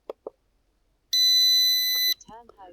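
A Ruko U11Mini drone controller emits a sustained high-pitched electronic beep lasting about a second, preceded by two short clicks and followed by a brief voice, during return to home.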